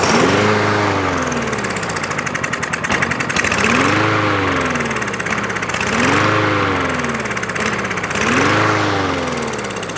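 Small single-cylinder engine on a 2023 Craftsman M110 walk-behind lawn mower with a jammed carburetor, cranked over repeatedly in four rising pull-start bursts that sputter without catching, loud and close with no talk.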